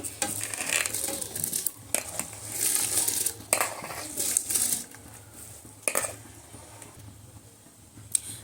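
Washed rice poured slowly into a pot of boiling coconut milk for green pea pulao, scattered grainy patters and clinks of utensil on metal, moderately close, with quieter pauses between pours.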